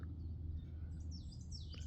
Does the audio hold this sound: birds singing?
yes